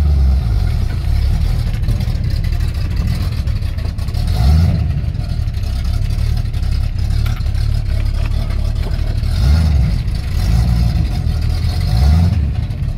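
A Holden XC GXL is driven with a low engine rumble filling the cabin, the revs rising briefly several times as it moves off and changes gears, steady and close throughout.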